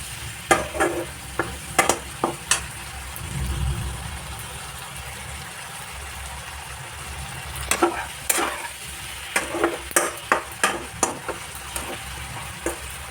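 Spices and ingredients sautéing in a pan, with clusters of sharp spoon scrapes and clinks against the pan over a soft steady sizzle and low hum, close by with no talk.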